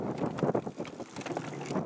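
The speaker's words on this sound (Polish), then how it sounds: "Wiatr mi tutaj przeszkadza w trollingowaniu" Gusty wind buffeting a microphone outdoors on a boat on open water while trolling, rumbling low and uneven in surges, with faint splashing and rattling beneath.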